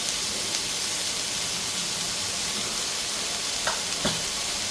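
Cumin seeds fry with softened onion and coconut in a pan, giving an even, constant hiss of sizzling oil with two soft stirring taps near the end.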